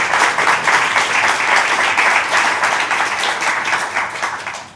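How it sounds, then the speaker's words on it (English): Audience applause for panel speakers at a climate and development finance policy event: a dense, steady wash of clapping that holds evenly and then tapers off at the end. "A round of applause for all of them."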